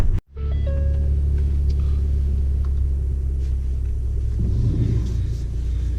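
Low, steady engine rumble from a big-turbo Ford Focus ST, starting abruptly after a brief gap, then a deep droning hum holding close and loud with little change as it moves off.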